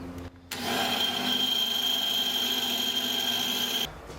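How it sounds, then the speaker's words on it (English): A power drill fitted with a long drill bit whirs continuously for about three seconds at a steady high pitch, loud and close, then stops, drilling during a Rotax 912S engine installation on a Zenith CH750 aircraft. "We'll drill this side out."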